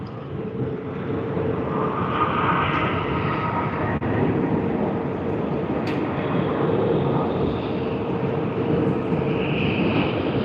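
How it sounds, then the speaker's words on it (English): A Fiji Airways Boeing 737 jet departs Sydney Airport in the early morning, giving a steady, loud broadband roar that holds at full strength across the whole stretch with no voices. "We have Fiji Airways departing to Nadi"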